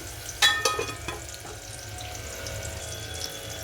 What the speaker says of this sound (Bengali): এদিকে কুমড়ো ভাজা হচ্ছে